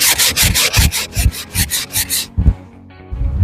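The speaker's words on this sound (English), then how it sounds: "Keep your sandpaper block at a 45-degree angle." Wood being sanded by hand with a sandpaper block, a rapid rhythmic back-and-forth rasping of about a dozen close, loud strokes, then a pause and a few more strokes.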